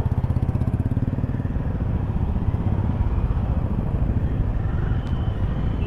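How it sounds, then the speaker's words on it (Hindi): A group of motorcycles pulling away one after another from a house at the end of a breakfast ride, their engines a loud, close, steady throbbing rumble throughout with no voices. "अभी फ़िलहाल घर के ही निकल रहे हैं सारी बाइक्स एक एक करके।"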